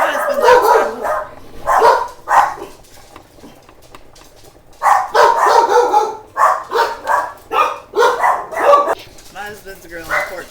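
Several dogs bark loudly and repeatedly in close, rapid bursts, agitated by a man grilling pork chops outside whom they take for an intruder; a person's voice talks over the barking.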